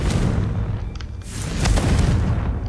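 A blasting spell in the video game Hogwarts Legacy goes off as a loud, booming explosion with a deep rumbling low end, followed by a second burst and a sustained roar.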